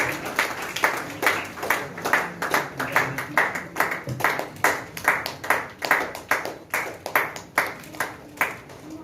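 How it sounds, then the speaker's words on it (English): A small audience at a teachers' award ceremony claps in a steady, moderately loud run of distinct handclaps that rise and fall, with no one talking. "Let's all give a big round of applause"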